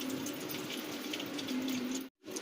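Steady running tap water gushes while freshly cut vegetables, destined for a hilsa fish head and Malabar spinach dish, are rinsed in a home kitchen, a continuous close splash that briefly cuts out near the end.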